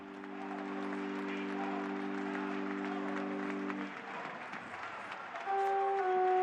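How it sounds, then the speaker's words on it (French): Steady applause from the congregation at Pope Benedict XVI's funeral Mass fills the space, continuing throughout, with a sustained organ-like tone underneath that fades and then returns louder near the end. "Et les applaudissements de l'assistance comme dernier adieu."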